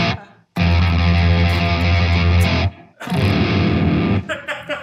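Heavily distorted electric guitar, spun by a motor, blasts out in two loud, sustained chords separated by a brief gap, ending in a few choppy strums.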